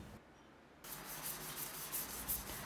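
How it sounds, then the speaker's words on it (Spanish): A steady gritty scraping rasps back and forth as a sharpening stone is rubbed flat across sandpaper laid on thick glass, close and continuous with a rhythmic push-pull. "rectifico mis piedras de afilar usando una lija sobre un vidrio grueso"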